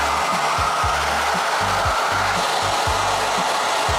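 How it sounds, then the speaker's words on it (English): A cheap Dollar Tree hair dryer blows steadily and loudly close by, a constant whooshing roar with a low rumble underneath that pulses as the airflow shifts. No one talks. "We're gonna go in with the Dollar Tree hair dryer."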